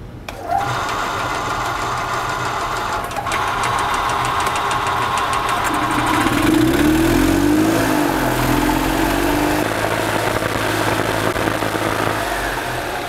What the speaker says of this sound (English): So what I'm gonna have to basically do is start the engine.